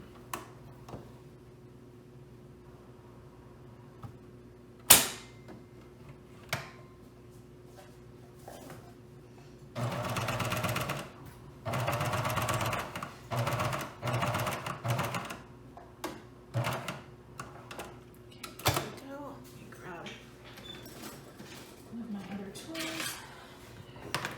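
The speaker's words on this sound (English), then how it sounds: "I'm going to take this to my cover stitch, just right here, and I'm going to sew this on" A cover stitch sewing machine runs in several short bursts of rapid mechanical stitching, close and fairly loud, with clicks, handling noises and pauses between the runs.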